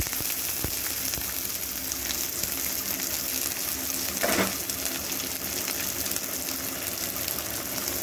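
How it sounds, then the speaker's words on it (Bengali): Two chopped onions fry in hot oil with a steady, close, even sizzle, and one brief louder burst partway through. "এবার এই তেলের মধ্যে দিয়ে দিচ্ছি যেই 2টো পেঁয়াজকে কুচিয়ে রেখেছিলাম"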